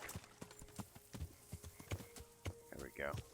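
Horse hooves clopping in the Kingdom Come: Deliverance video game, a few evenly spaced thuds at a walk, with a brief voice rising near the end.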